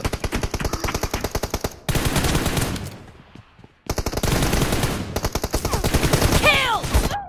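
Automatic gunfire in the mobile game PUBG Mobile rattles in loud, rapid bursts separated by brief gaps, with a short near-silent pause midway and faint voices in the background.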